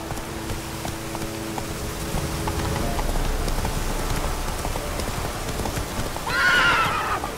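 Horse galloping in The Witcher 3 video game: steady rhythmic hoofbeats over a patter of rain, ending with a loud whinny near the close, with no speech.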